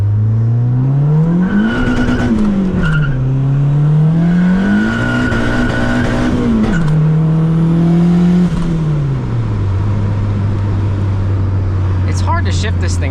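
Turbocharged car with a built motor revving hard through the gears, engine pitch climbing and dropping at each shift, loud and close with tire noise and a brief voice near the end.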